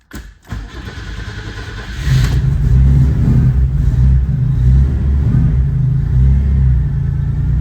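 A Toyota Echo engine cranks and catches at about two seconds, then settles into a loud, steady idle that runs close and alone to the end.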